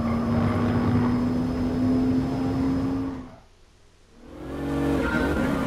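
Mercedes race car in Gran Turismo Sport drones with a steady, loud engine tone that climbs slightly, drops out abruptly for about a second, then swells back in.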